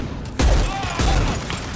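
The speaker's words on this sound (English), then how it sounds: "Firing concussive shot." A concussive shot fires in the video game Mass Effect 2, a single sharp blast that hits at once and rolls on into a dense, rumbling decay for over a second.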